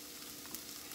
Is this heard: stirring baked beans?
yes